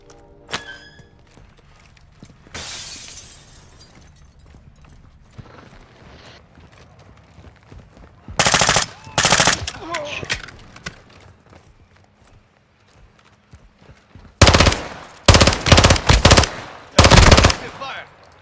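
Bursts of automatic gunfire crack out in the video game Call of Duty: Modern Warfare II. The loud volleys come in several separate groups, with quieter stretches and scattered thuds between them.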